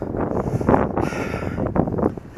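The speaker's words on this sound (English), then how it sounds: "it's starting to get windy" Steady wind buffeting the microphone outdoors, a continuous low rumble and roar with gusting swells, no voices.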